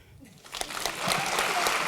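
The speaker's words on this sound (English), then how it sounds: "One more round of applause for our speakers, please." Audience applause for speakers at a community event, a swelling burst of clapping that thickens after about a second and holds steady, fairly close, with no voices over it.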